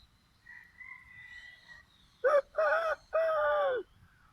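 A rooster crows in the distance, a clear multi-part call rising and falling, preceded by faint whistling tones in a quiet setting.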